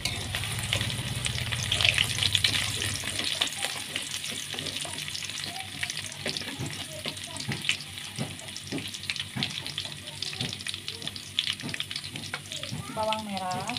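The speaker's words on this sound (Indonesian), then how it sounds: "Panaskan minyak secukupnya. Di sini mau aku goreng" Garlic frying in hot oil in a home kitchen while sambal teri is made, a continuous crackling sizzle with scattered pops and occasional stirring scrapes, close and steady.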